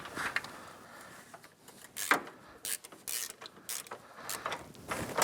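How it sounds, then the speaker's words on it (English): Fill plug being screwed back into the transmission of a Polaris Ranger 800 Crew, with close, irregular metallic clicks, creaks and ratcheting bursts in uneven rhythm and small scraping handling sounds between them. "let's get our fill plug back in"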